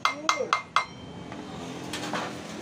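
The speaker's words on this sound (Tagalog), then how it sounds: "ini-impact ko muna ng martilyo itong mga bolt na maliliit na to" Four sharp metallic hammer strikes on small bolts in quick succession, fairly close, followed by softer clinks and a quiet voice.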